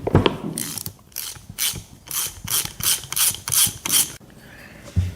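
A hand ratchet clicks in repeated rapid bursts while loosening bolts on a steering gearbox during a rebuild, about eight close, loud ratcheting strokes with short pauses between them, and no talking.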